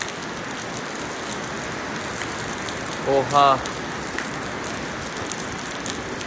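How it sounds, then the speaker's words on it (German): Heavy rain with wind pours down steadily outdoors in Side, Turkey, a dense, even hiss that carries throughout, with a brief exclamation from a person partway through. "Richtig viel Regen, die Tropfen sieht man gerade gar nicht."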